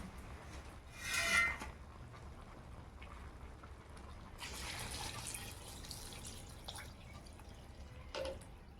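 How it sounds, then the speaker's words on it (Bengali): Water is poured into a pot of vegetarian khichuri, with a short splash followed by a longer, faint trickling pour, all fairly quiet and close. "পরিমাণ মতন জল দিয়ে দেবো"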